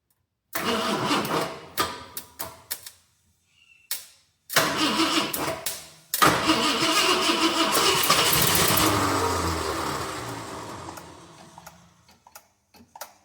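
A 1966 Ford Galaxie 500 with a 390 FE V8 and a four-barrel carburetor cranks in several short bursts with quiet gaps, then fires and runs in a loud, rough, steady idle up close before slowly settling.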